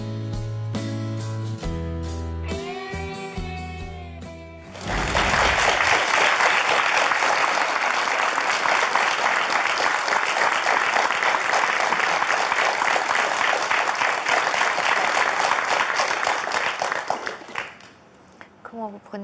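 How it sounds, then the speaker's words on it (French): A studio audience on a French talk show breaks into loud sustained applause after a brief stretch of music, the clapping thick and even before fading at the end. "Ces applaudissements, Nathalie."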